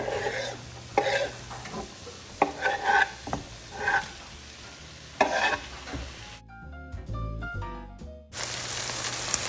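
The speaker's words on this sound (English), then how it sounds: "I'm just going to add my uncooked sausage here because we're going to cook that up." Uncooked sausage and onions cooking in butter in a pan, giving a soft steady sizzle with intermittent stirring scrapes. Near the end a brief burst of a different tonal sound breaks in before the sizzle returns.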